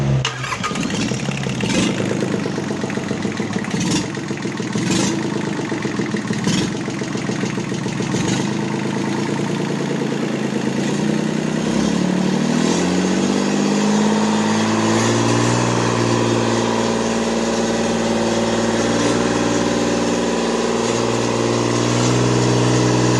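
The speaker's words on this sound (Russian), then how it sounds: "Запуск мотора Mitsubishi K3E." A Mitsubishi K3E diesel engine, just imported from Japan, cranks with a rhythmic chugging and then fires into a steady, clattering idle on a test stand, loud and close with no voices.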